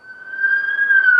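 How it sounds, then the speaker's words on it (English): A siren wails as one steady, sustained tone that swells slightly louder over a second or so, with no voices over it. "I heard a siren."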